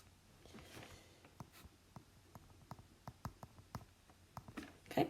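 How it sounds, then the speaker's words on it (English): Writing on a board comes through as faint, quick taps and short strokes in an uneven rhythm that grows busier and slightly louder toward the end. "Let me write that again."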